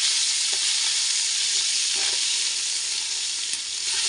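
Onion paste for chicken biryani stirred as it fries in a pan, a steady broad sizzle with a few soft scraping strokes of the spoon, close and continuous.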